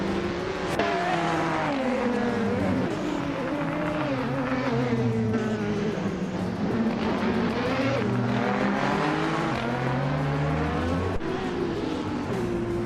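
Race cars speed around a track, with engines droning and shifting pitch continuously as they rev and accelerate for the whole stretch, loud and close, with no talking.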